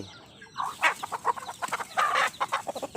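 Several chickens cluck close by in quick, irregular bursts, their short calls overlapping and tumbling one after another.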